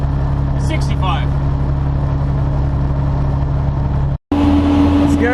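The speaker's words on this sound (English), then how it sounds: "He's just revving the living daylights out of it right now with the engine fan on." A rental truck engine revs hard nearby on a wide highway, its cooling fan roaring, producing a loud sustained drone that drops out briefly near the end and then resumes.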